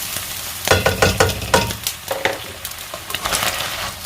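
Rice frying in a pan with pork cooking nearby, giving a close, steady sizzle broken by repeated scraping and stirring strokes from a utensil. No one speaks.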